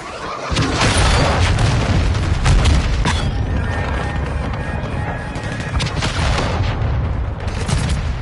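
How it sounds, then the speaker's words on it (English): A cruise missile strike in the Modern Warfare 2 DMZ game erupts as a loud, near boom that rolls into sustained crashing rumble and debris for several seconds. "Hostile cruise missile launched."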